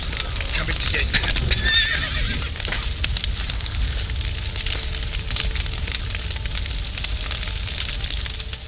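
Horses neigh and whinny in a burning village in the video game The Witcher 3, with hooves clip-clopping and fire crackling beneath, a sharp whinny early on amid a continuous noisy scene.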